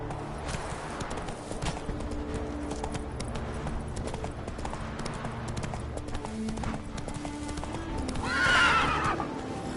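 Roach, Geralt's horse in The Witcher 3, gallops with steady rapid hoofbeats throughout, then lets out a loud whinny near the end, with game music and ambience underneath.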